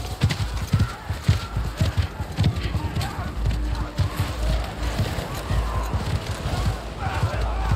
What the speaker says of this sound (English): you have to like train those horses not to get like spooked and stuff